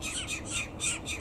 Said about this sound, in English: There's birds here on the parking spot.